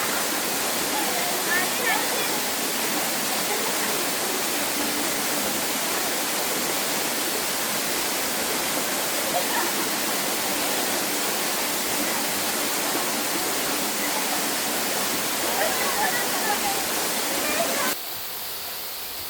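Steady, loud roar of Payaran Falls pouring down without letup, a broad continuous rush of falling water that holds even and close, then drops slightly in level near the end.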